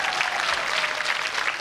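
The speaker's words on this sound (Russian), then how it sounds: "Аплодисменты Оле и Ане." A studio audience on a TV quiz show claps steadily and densely throughout, a full burst of applause with no pauses.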